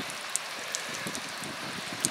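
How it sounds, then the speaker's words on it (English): Rain falls in a steady soft patter on an RV exterior, with a few sharper drips landing nearby over a brief stretch. "It's raining."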